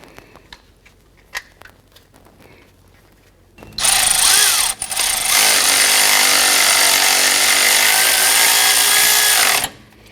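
A power tool runs close and loud for about six seconds, tightening a bolt that holds a wiring harness to the alternator bracket of a 2009-2015 Honda Pilot, with a brief dip midway, after quieter shop clatter.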